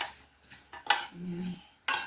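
A utensil clinks and scrapes against a bowl as apple cucumber salad is tossed, giving a few sharp metallic taps and a short rubbing scrape, close by, with quiet gaps between them.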